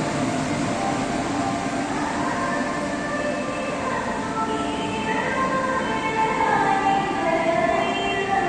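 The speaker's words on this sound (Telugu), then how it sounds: "ఇప్పుడే ట్రైన్ వచ్చిందండి, విశాఖపట్నం ట్రైను" A Machilipatnam-to-Visakhapatnam passenger train rolls into Nidadavolu railway station with a sustained rumbling roar of carriages and faint wheel squeal, steady and close throughout.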